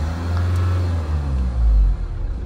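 Mahindra Scorpio N engine revving as the accelerator is pressed, a close, loud rising roar that swells then drops off sharply, with no talking.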